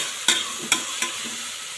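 Beef curry masala with fenugreek sautéing in a pan, a steady close sizzle broken by three sharp scraping stirs of the spoon, with no voices.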